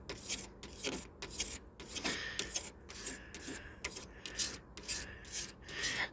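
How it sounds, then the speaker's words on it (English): A paint run is shaved off the panel of an Austin Princess car, with repeated close rasping scrapes in a steady back-and-forth rhythm, quiet and unaccompanied by talk. "that is still shaving paint away on that high spot"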